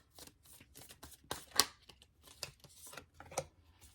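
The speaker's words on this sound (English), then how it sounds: "Let's give it a minute here to shuffle." A deck of tarot cards is shuffled close by in repeated riffling bursts, with soft papery flutters and brief pauses between them.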